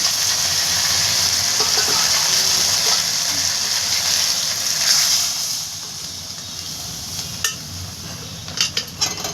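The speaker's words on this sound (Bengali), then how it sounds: "এবার ডালটা দিয়ে দেবো ডালটা সেদ্ধ করাই খুলে একটু জল দিয়ে দেবো" Water poured into a pot of boiled vegetable dal, Bengali home cooking: a steady, fairly loud rush of pouring for about five seconds, then it tapers off into a few light clinks of the pot and utensil.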